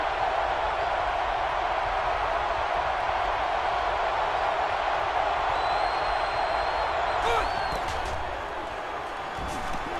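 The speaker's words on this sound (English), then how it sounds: "So this crowd is making their presence felt." Stadium crowd noise in NCAA 13 college football, West Virginia versus Houston: a dense, continuous roar of cheering that runs steadily throughout and eases slightly near the end, with a commentator talking over it.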